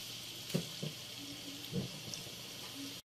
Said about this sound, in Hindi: इस प्याज को हम यहाँ पे बिल्कुल तल लेंगे अच्छी तरह से